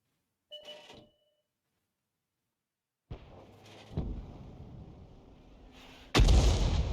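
Artillery shells fired from a 105 mm leFH18B2 howitzer in a tank video game: a faint early burst, then a loud firing boom at about four seconds and a heavier blast near the end over a rumbling battlefield background.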